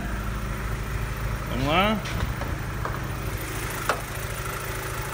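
A freshly assembled BMW N46 engine runs at a steady idle, a continuous low drone throughout, while someone speaks briefly over it and a sharp click cuts in near the end.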